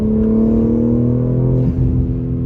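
A BMW G82 M4 with catted downpipes and exhaust valves open drones loudly and steadily with a deep exhaust rumble, briefly shifting pitch partway through, with no talking.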